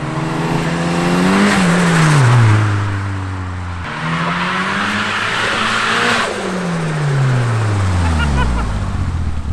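A turbocharged Mitsubishi Lancer on the street revs hard through repeated climbs and drops in pitch, its engine loud and close, roaring up to high revs and falling back with turbo whoosh between the pulls.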